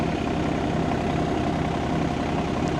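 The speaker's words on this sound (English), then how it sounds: "He is using the mulcher." A forestry mulcher on a tractor runs off in the background, a steady low engine drone with a rough pulsing rumble, held at an even level throughout with no talk.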